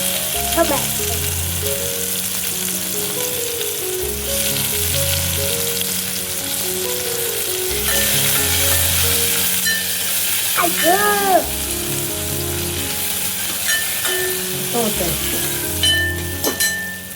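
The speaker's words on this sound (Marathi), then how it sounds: "छान टोमॅटो आपल्याला फ्राय करून घ्यायचा आहे" Onion and tomato fry together in a pan as a home-style Indian dish cooks, giving a steady sizzle with occasional stirring scrapes, clear and fairly loud, with background music and no talking.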